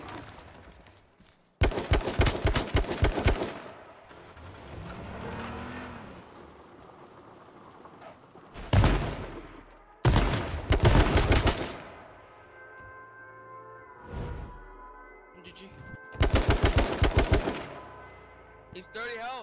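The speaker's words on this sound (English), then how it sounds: "I'll shoot his feet right here." Loud automatic gunfire in a video game comes in several rapid bursts separated by quieter gaps, with softer game sounds between them.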